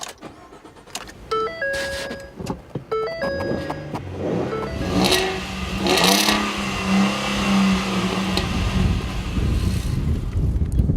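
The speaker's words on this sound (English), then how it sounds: "we're curious if there's gonna be a different exhaust note" Beeping chimes, then a Ford F-150 pickup's V6 engine, running on compressed natural gas, starts and revs up loudly, its exhaust droning and rising in pitch, with some wind noise.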